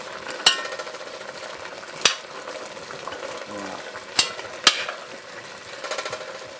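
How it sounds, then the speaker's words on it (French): Osso buco in a home-kitchen pot over a gas flame, with a steady simmering sizzle and several sharp utensil clinks against the pot as it is stirred, fairly close. "Alors que je vais remuer avant, bien sûr."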